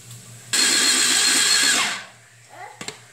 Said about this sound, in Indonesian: Dan di sini saya akan tambahin cabai pedas ya, cuman 7 biji aja.